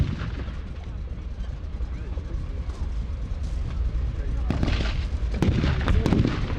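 Distant rumbling battle reenactment with tank gunfire, a Matilda tank involved, booms and cracks rolling out over a continuous low background, with sharper bangs building toward the end.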